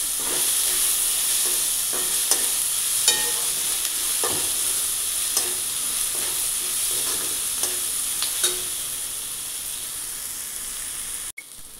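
Tomato and onion frying in a pan over low heat, a steady close sizzle and hiss with a few sharp clicks of stirring scattered throughout.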